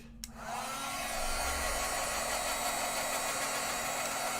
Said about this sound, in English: So what I'm going to do is I'm going to heat set this again real quick